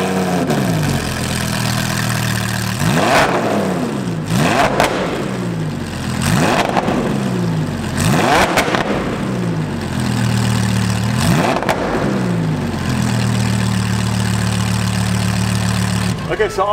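A Lamborghini Huracan fitted with a new H-frame exhaust idles and is blipped repeatedly, roughly six sharp revs rising and falling in a steady rhythm, loud and close, with a rumbling idle between them.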